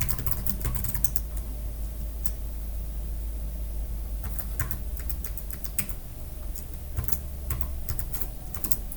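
Fingers type a password on a computer keyboard, a quick, close patter of key clicks in irregular bursts, over a steady low hum.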